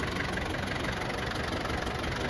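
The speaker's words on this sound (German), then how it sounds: "Hier mein schöner alter historischer Traktor." An old historic tractor engine idles steadily close by, a dense continuous rumble with an even mechanical chatter throughout and no voices.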